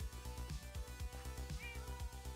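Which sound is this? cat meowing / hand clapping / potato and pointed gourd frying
cat meowing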